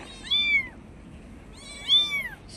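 Two plaintive high meows from small kittens at a seaside spot, spaced about a second and a half apart, close and distinct against a quiet low background.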